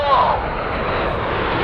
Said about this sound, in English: the aircraft prepare for the Apollo roll